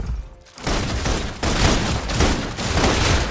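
Sustained suppression gunfire from the Love and Deepspace mobile game, a dense loud barrage of rapid shots and booms rolling continuously after a brief lull at the start.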